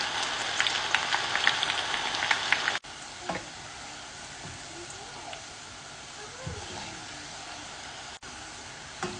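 Chopped onion frying slowly in oil on a low flame for homemade hair oil, a soft steady sizzle and crackle, louder for the first few seconds, then quieter with occasional pops and faint background voices.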